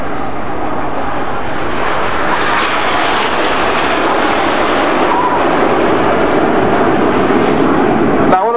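Red Arrows jet aircraft flying a display at the Bournemouth Air Festival, a loud continuous jet roar holding steady throughout, nearby and overhead, with no talk in the clip.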